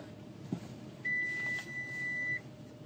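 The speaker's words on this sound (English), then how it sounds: "Car's beeping." A steady electronic beep tone holds for about a second and a half over low background rumble, with a faint knock just before it.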